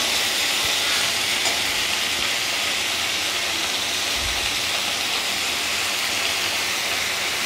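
Chopped tomato frying in a pan over raised heat while cooking Bengali cholar dal, giving a loud, steady, even hiss of sizzling oil with no break and a faint low thump partway through.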